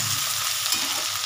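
Potato, cauliflower, pumpkin and capsicum fry in a pan, making a dense, loud, close sizzle that holds steady for a brief moment with no voices.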